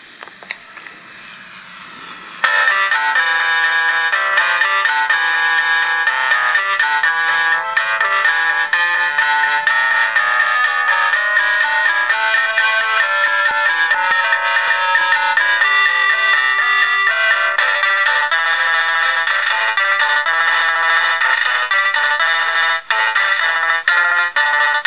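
Sony M200MC microcassette recorder playing back recorded music, a thin, bright electronic melody with tape hiss underneath, steady and fairly loud after a brief quiet start, with no talk.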